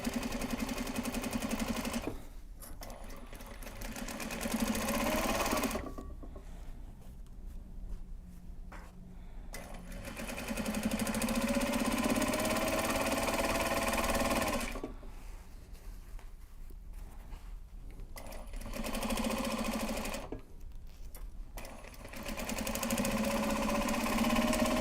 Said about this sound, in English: Stitching over the D-ring tab because that is a point of high stress